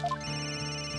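A bright electronic ringing tone sounds steadily at a moderate level in Phoenix Wright: Ace Attorney - Dual Destinies, with a short rising two-note chime at the start.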